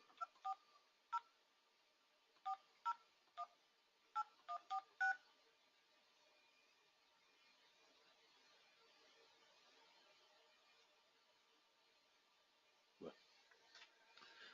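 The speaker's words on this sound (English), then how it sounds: "I can just dial." Telephone keypad tones sound as a number is dialed for a VPN call, a quick series of about a dozen short beeps in irregular clusters, followed by a quiet line and a brief low noise near the end.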